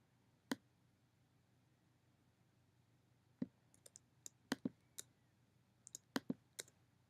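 Computer mouse clicks while editing an image in Pixlr: about a dozen faint, sharp, isolated clicks at irregular intervals, some in quick pairs, over a quiet background.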